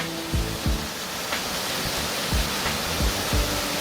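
Yukdam Falls in Seoraksan, a waterfall over 40 metres high, roars steadily, viewed from a suspension bridge, a dense broadband rush of falling water into a deep pool that fills the scene, with a few low thuds beneath it.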